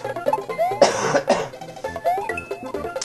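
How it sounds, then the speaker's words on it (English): Two sharp, close coughs burst out over the light bleeps and music of Super Mario World gameplay, followed by the game sounds carrying on. "As you can see, I still have that cough."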